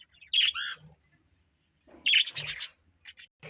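Budgies squawk in two bursts of sharp, harsh calls with a few softer chirps trailing after, close by, while millet is poured out for them.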